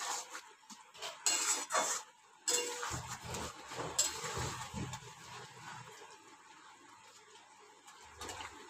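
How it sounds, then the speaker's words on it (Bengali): A spoon scrapes and clinks in a pan as fried cabbage manchurian balls are mixed into gravy, with irregular close knocks early on and quieter stirring later. No one speaks. "এবার আমি এই মাঞ্চুরিয়ানগুলো দিয়ে দেব। এটার সঙ্গে ভালো করে আমি মিশিয়ে দেব।"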